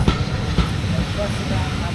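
Rumble and rhythmic clatter of a heritage train rolling on rails close by on the Bluebell Railway, with a faint hiss over the steady noise.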